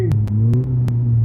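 A four-cylinder Fury race car engine holds a steady, loud idle-to-rev drone, punctuated by several sharp clattering pops or backfires at irregular intervals, close by.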